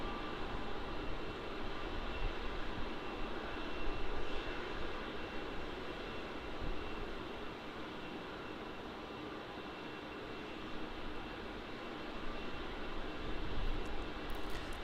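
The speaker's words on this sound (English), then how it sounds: "on screen now, you've got QF670. This is arriving in from Adelaide" Qantas flight QF670 arrives from Adelaide at Melbourne Airport, its jet engines producing a continuous wide rumbling roar at a distance, fairly steady with gentle swells in level.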